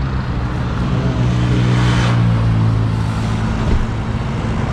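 A busy highway roadside, where a vehicle stopped with a coolant problem, carries loud, continuous traffic roar. A nearby vehicle swells past midway, with engine drone throughout and no talk.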